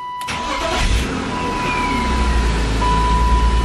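A BMW E36 car engine cranks and fires after a fuel filter replacement, catching quickly and settling into a steady, close idle rumble.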